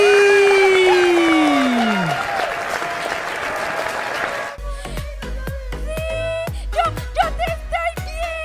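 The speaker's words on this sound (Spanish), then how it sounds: "¡Démosle un aplauso a Molly!" Applause from the audience at a children's TV talent show for Molly, mixed in with loud sound effects and then upbeat music with sharp percussive hits.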